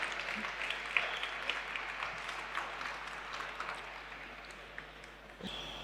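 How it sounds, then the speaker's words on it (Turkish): An audience applauds as an ambassador is welcomed onto a stage, steady distant clapping from a large crowd at low level, slowly tapering with a few louder claps near the end. "Sayın Osman Koray Ertaş büyük alkışlarla efendim sahneye davet etmek istiyoruz."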